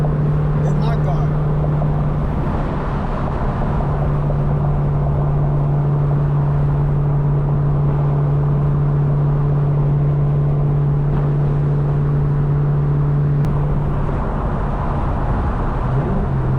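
A deep, loud cammed engine rumble drones steadily from inside a moving Cadillac CTS-V, with voices talking over the heavy low throb.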